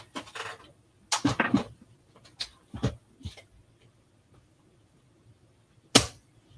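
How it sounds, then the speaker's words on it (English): Paper trimmer slicing card-making design paper, a few short sharp swishing cuts separated by pauses, close and clear with quiet handling noise between strokes. "Use a trimmer."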